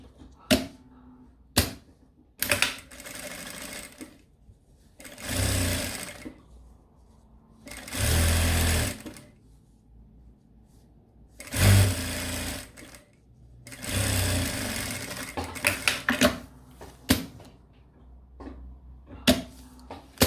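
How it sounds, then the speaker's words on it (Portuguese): A sewing machine runs a straight seam to attach a zipper to the main panel of a small backpack, in several whirring bursts of a few seconds each separated by pauses and light clicks of handling. "Vou passar uma costurinha reta aqui para segurar o zíper na parte principal."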